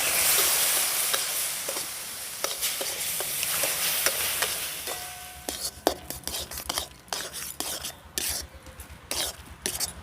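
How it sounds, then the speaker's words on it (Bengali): Milk being added little by little to semolina for halwa and stirred in a pan, with a strong hiss first, then scraping spoon strokes and intermittent clicks against the vessel, close, with no talking. "এই দুধটাকে এখানে অল্প অল্প দিয়ে এইভাবে মেশাতে থাকবো"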